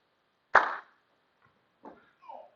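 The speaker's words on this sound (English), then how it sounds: "When I clap, depending on how many claps, you're going to stop and move into that level." A teacher gives one sharp, loud hand clap as a signal during a physical education class on space awareness, followed by a couple of softer, short sounds in an otherwise quiet room.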